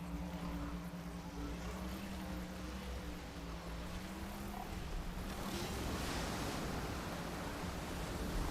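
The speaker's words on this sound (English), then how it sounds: "Look, it's a pretty waterfall." A waterfall in the video game Horizon gives off a continuous hissing rush of falling water, steady and fairly quiet throughout, with a low droning hum underneath during the first half.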